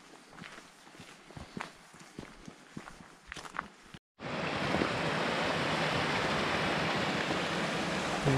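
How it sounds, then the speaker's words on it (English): Footsteps crunch along a path through oak woodland in Glenveagh National Park, Ireland, then cut to the steady, dense rush of a waterfall that holds unbroken to the end. "There's the waterfall over the other side there"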